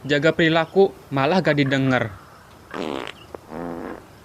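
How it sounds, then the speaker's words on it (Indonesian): In an animated school movie, a loud, sputtering fart sounds close up, two drawn-out buzzing bursts following a stretch of speech, with voices talking just before it. "Lu kentut ya?"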